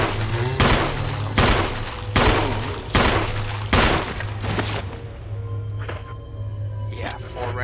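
Rapid gunfire from the Resident Evil HD Remaster video game as a zombie is shot: a string of sharp, loud reports spaced about a second apart, then fainter shots, over a steady game hum with a voice talking.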